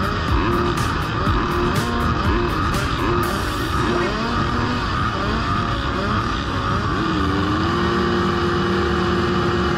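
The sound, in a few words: motorcycle race start on track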